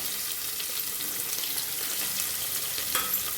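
Curry leaves, grated ginger and sliced onion fry in hot oil, giving a continuous dense sizzle at an even loudness, with a faint clink near the end and no speech.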